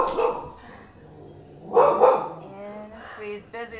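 A dog barks in short bursts in the middle of a home weights-and-yoga workout session, moderately loud and overlapping a voice talking.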